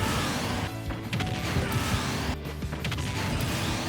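Steve's anvil attack slamming down in Smash Bros Ultimate: a dense, loud metallic crash and clatter with sharp impacts and mechanical rattling, sustained over a few seconds with no talking.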